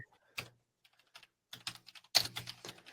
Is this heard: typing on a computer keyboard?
yes